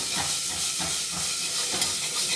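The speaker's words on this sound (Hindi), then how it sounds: "मुझे तो बन रहा है छोला, मसाला भुना जा रहा है" Chole masala roasts in a pan with a continuous loud hiss and sizzle, and faint stirring scrapes come through in rhythmic pulses.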